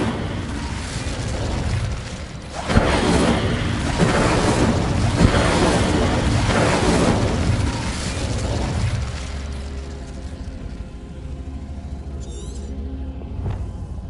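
An Incendio fire spell in Hogwarts Legacy, bursting in a series of rumbling, flaring whooshes with sharp pops, loud and close before fading into a lower crackle.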